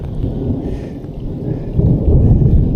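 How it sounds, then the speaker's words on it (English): Low rolling rumble of thunder over dense, steady rain at a fishing spot, swelling louder toward the end. "it's pouring with rain and it's thunder and lightning"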